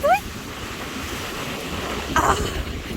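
Ocean waves wash onto a beach in a steady broadband roar, with a swell near the end, while a dog is called toward the water and a short whistle-like cry sounds at the start.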